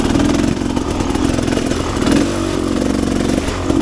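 A Rieju Ranger 300 dirt bike fitted with an FMF Gnarly exhaust pipe runs loud and close, its engine humming steadily with slight rises and dips in revs.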